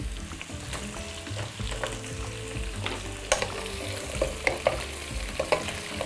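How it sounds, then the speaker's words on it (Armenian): Bone-in ham being stirred in a pot while making bigos, sizzling and frying steadily with scraping clinks of a spoon against the pot, close and alone without talk. "Տակնու վրա ենք անում, թող համերը խառնվեն"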